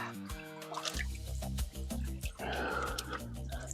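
Water trickles and drips through the screen of a gold prospecting jig while paydirt is washed out, a close, continuous splashing and dribbling with steady low tonal machine hum underneath.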